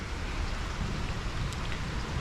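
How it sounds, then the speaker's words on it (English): Light rain falling steadily during a fly fishing outing, a soft continuous hiss with no pauses, close and moderately loud, with no voices. "with this little bit of rain, with this cooling temperature"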